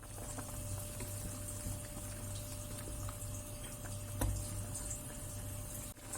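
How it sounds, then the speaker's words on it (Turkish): Dried apricots simmer in a pot of water, giving a steady, low bubbling and rumbling boil that carries on evenly throughout without talk. "Birkaç dakika bu şekilde kaynadı."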